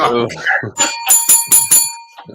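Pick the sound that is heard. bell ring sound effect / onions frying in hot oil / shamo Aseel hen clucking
bell ring sound effect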